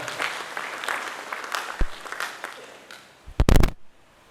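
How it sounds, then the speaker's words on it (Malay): Audience clapping at an UMNO Youth divisional meeting in Batu Pahat, a scattered patter that thins out, followed by a few sharp loud thumps near the end. "Tepukan untuk Yang Berhormat Ketua Pemuda kita."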